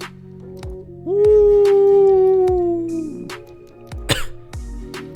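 A dog howls in the Minecraft-based game world: one long, sustained wavering howl, loud and close, set among several short dull thumps and a sharp yelp-like burst near the end.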